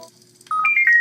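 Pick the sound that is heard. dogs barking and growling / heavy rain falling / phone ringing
phone ringing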